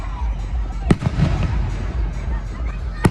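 Juneteenth fireworks go off outdoors, with two sharp loud bangs a couple of seconds apart and a few softer crackling pops between them, over a background of ambient noise and people talking nearby.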